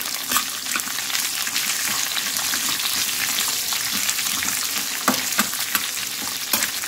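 A large, coarsely cut onion fries in hot oil with chilli and garlic, a steady loud sizzle with occasional stirring scrapes and pops, close up and continuous, no voices.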